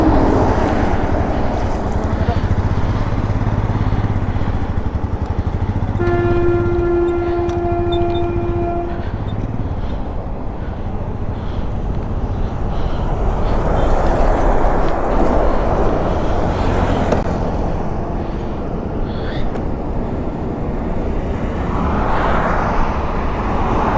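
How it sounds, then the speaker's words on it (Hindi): A motorcycle tows another, engine-failed motorcycle along a road on the way from Udhampur to Delhi. Steady loud engine and wind roar continues throughout, with a brief tonal horn-like sound in the middle. "भाई की बाइक से टो कर रहे हैं बादल त्यागी की बाइक को"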